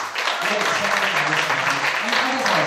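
Audience applause at a book concert fills the space continuously, steady and fairly loud, while a voice carries on speaking underneath the clapping.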